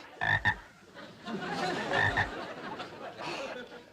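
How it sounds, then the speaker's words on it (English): A frog croaks close by in a garden fish pond setting, several loud throaty croaks in quick pairs followed by a busier stretch of croaking and rustling. "George, it was you who promised Dennis that his frog Sam could live in the fish pond"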